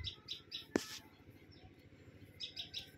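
Doves in a tree outside a home, repeated short chirping calls in small groups of three, with one sharp click between them, fairly faint over a quiet low background hum.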